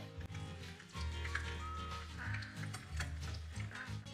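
Chiacchiere carnival pastries frying in hot oil give off a steady, soft sizzle with bubbling that continues throughout beneath faint background music.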